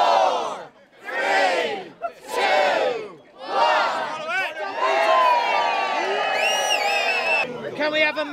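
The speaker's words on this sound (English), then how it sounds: "massive cheer as Lindy gives to Beth, who ate 60 foot of n" A crowd at a stinging nettle eating championship in Dorset, UK, cheering and shouting: several loud bursts of yells and whoops build into a sustained roar of voices, with some high cries near the end.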